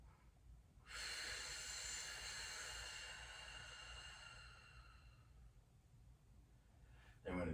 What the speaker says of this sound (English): breathe in deep